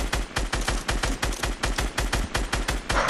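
Rapid gunfire from a Fortnite match: a fast, evenly spaced string of loud, punchy shots in steady automatic rhythm, close and dry, running unbroken for a few seconds.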